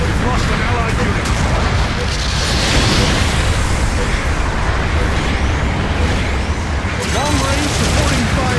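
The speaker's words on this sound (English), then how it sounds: "Long range supporting fire is a go." Long-range supporting artillery fire in the video game Gundam Battle Operation 2 pounds as a dense, loud, continuous barrage of explosions and booms, with voices over the din.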